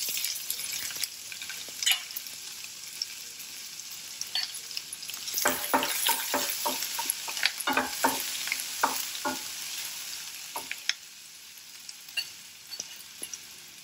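Chopped onion tipped into hot oil with curry leaves, a loud steady sizzle with scraping stirs and clinks throughout, the frying rising in bursts mid-way before easing.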